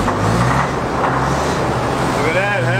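A WWII White half-track military vehicle, built 1941–45 by White in Cleveland, Ohio, is started and runs with a steady, loud, low engine rumble while someone talks over it.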